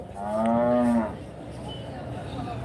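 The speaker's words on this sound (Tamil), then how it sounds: "நல்லா செனமாடுங்க இந்த சைடு செனமாடு கைக்கறவை மாடு கன்று எல்லாமே இருக்குங்க" A single loud, close cow moo at a cattle market in Karimangalam, Dharmapuri district, lasting about a second, then a low murmur of market background noise.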